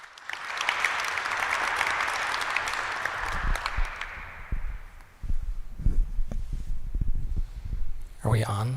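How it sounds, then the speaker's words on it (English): An audience applauds speakers at an evening talk, a dense burst of clapping that fades after a few seconds, followed by microphone bumps, rustling and handling noise, with a voice starting up at the end. "If we can give a round of applause for our speakers this evening"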